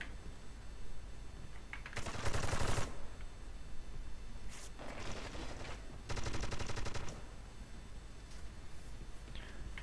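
Rapid gunfire in a competitive Overwatch-style shooter match against a Widow player, bursts of automatic fire around two and six seconds over continuous game ambience and clatter, no voices.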